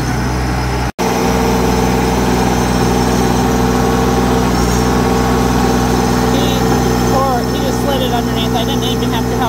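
A tractor engine idles close by with a loud, steady low rumble and vibration that runs through the whole clip, broken only by a momentary dropout near the start.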